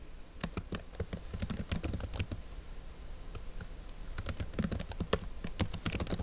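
Rapid, steady clicking of a computer keyboard as a name is typed into a software form. The keystrokes are close and clear, with no speech over them.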